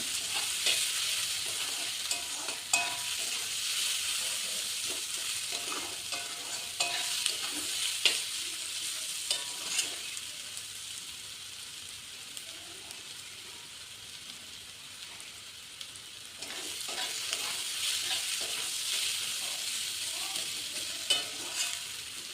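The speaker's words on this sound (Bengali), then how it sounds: "তাই পেঁয়াজ একটু ভালো করে ভেজে নিচ্ছি" Onions frying in a pan for a Sunday mutton curry, a steady broadband sizzle with occasional stirring scrapes, easing off midway then crackling louder again near the end, with no talking.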